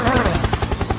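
A helicopter in a Roblox game gives a quick run of rapid, even rotor thumps, loud and close, pulsing steadily for about a second.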